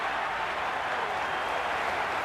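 A packed cricket stadium crowd at an IPL final roars and cheers in a dense, steady wall of noise that holds at full volume for the whole moment.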